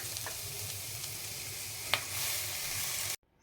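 Onion tempering with koya greens just added to the pan, a steady bright sizzle running close and even, with a few light utensil taps and one sharper knock before the sound cuts off abruptly.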